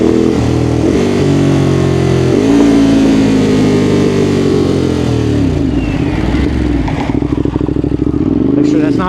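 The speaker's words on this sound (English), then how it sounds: "you want to use your Quickshifter to downshift" Ducati Monster 821 motorcycle downshifting with its quickshifter while riding toward a turn, the engine loud and close with falling and rising revs, blips and crackles, a voice talking over it.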